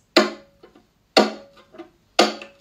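Percussive violin chop bow strokes mimicking a snare drum, three crisp scratchy hits evenly spaced about a second apart, each with a short softer follow-up, close and alone.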